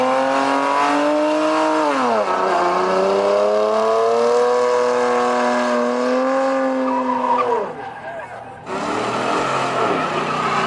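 Car tires spinning and squealing at a car meet in Bakersfield, a loud continuous screech with engine revving that bends down in pitch twice before cutting out briefly, then resuming.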